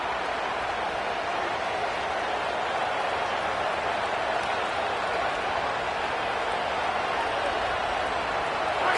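Steady stadium crowd roar in the College Football 27 video game, a dense unbroken hiss of noise at constant loudness for the whole stretch, with a commentator's voice faint beneath it.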